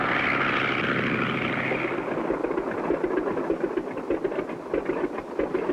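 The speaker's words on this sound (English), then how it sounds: "Looks all clear. We'll circle in for a landing." A cartoon light airplane's propeller engine drones steadily as it circles in to land, a continuous buzzing hum that shifts slightly in pitch midway, with no voices.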